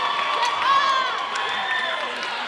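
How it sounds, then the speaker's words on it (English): A large crowd at a school Green & White Night event cheers and whoops loudly, with scattered shouts and a voice or two rising above a steady wash of noise throughout. "ladies and gentlemen, clap it up for this guy, Monroe Hall"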